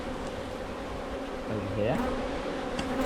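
Honeybees cluster on hive frames during a hive inspection, vibrating to keep the frame warm, producing a steady, dense buzzing close by. Brief soft speech sits beneath the hum.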